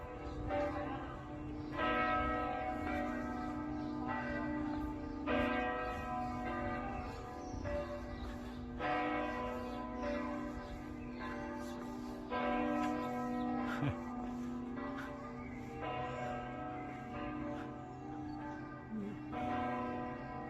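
Several church bells ring together at noon in Bamberg, Germany, in a continuous, overlapping peal, resonant and somewhat distant, with steady strokes layering over one another.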